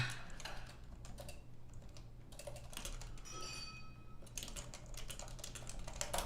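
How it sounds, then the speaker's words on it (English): Fingers type on a computer keyboard in a quiet room, a soft, close clatter of quick keystrokes in uneven bursts with a short lull near the middle. "Typing."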